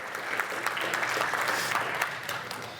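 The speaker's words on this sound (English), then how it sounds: "can we get the biggest round of applause for Dr. Nathan and his team" Applause from an audience at a real estate investing seminar, steady broadband clapping that holds for about three seconds at moderate level with no voices over it.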